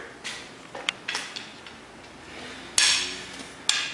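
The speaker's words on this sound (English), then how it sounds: "Simply put the tip there in the valve, give it a couple good whacks" A hammer strikes a hardened steel-tipped valve breaker to knock valves out of truck tires, giving a few sharp metallic whacks, two louder hits standing out among lighter taps in a quiet workshop.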